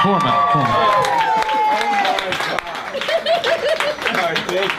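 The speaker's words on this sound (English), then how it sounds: "Another round of applause for Nancy Tiny Bird Manza, please" Audience at a comedy roast claps and cheers, with scattered hand claps and whoops mixed under a loud voice talking over the room.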